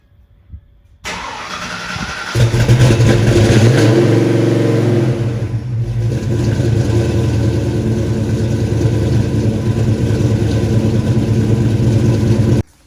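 Race car engine cranking after a fuel table adjustment, then catching into a loud, steady running roar that holds close and continuous to the end with no one talking.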